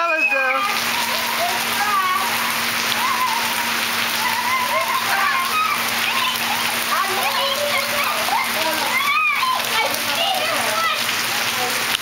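Rain falling steadily at the Akron Zoo while kids play and splash outdoors, a continuous wet patter with scattered high children's voices and shouts throughout.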